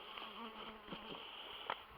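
Honeybees from a hive that has just been moved buzz steadily and close by, a continuous droning hum with a few louder passes near the end.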